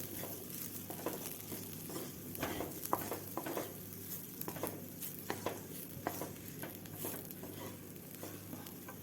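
Garam masala and turmeric are stirred in a pan in quiet, repeated scraping strokes over a faint sizzle, with soft irregular taps and no talk.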